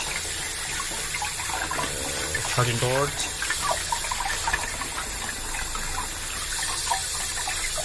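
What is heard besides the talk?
rugged smartphone being washed under running tap water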